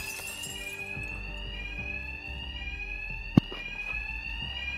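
A bank alarm rings steadily in the video game Batman: Arkham Knight, a loud continuous electronic bell tone over low background hum, with one sharp thud partway through and no talking.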